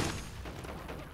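Shotgun blasts in Call of Duty: Modern Warfare II during a team deathmatch, a dense, loud burst of booming gunfire with heavy low-end thump filling the moment.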